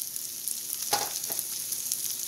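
Mushrooms, chili pepper and onion fry in a pan for a country breakfast, a soft, steady sizzle with a couple of brief stirring scrapes, fairly quiet and without voices.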